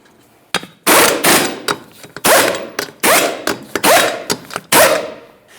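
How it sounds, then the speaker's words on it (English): Rapid bursts from a power tool spin 21mm lug nuts onto the rear wheel of a 2012–2018 Nissan Altima, several loud, close, buzzing runs with short pauses and clicks between them. "Start on all 5 of your 21mm lug nuts"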